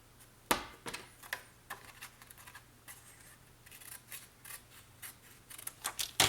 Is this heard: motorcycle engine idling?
no